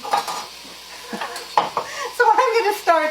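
Bacon sizzles and fries in an Instant Pot while a utensil scrapes and stirs it, with intermittent clinks and scrapes over a steady hiss.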